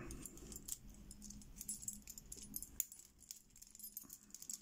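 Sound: old lever keys jangling while being handled

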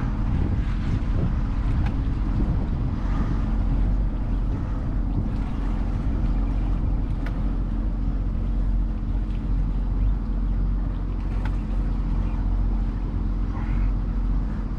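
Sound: Sea-Doo Switch Sport pontoon boat turning under throttle on water

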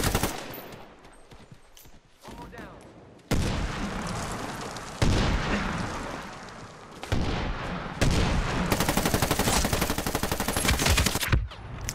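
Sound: gunfire in Medal of Honor Warfighter video game

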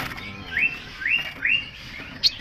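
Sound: cucak cungko bird calling

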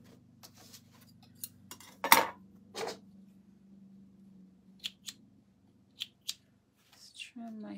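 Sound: scissors trimming threads on sewn backpack

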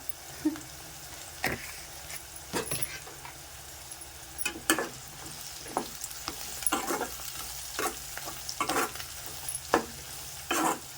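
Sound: onions and green chillies frying in a pan

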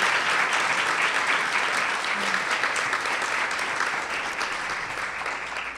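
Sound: audience applause for Sandra Cisneros

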